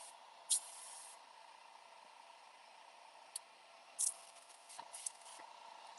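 An Iwata airbrush sprays paint onto fishing lures in short, faint hissing bursts, a few quick spurts scattered over a quiet background hiss.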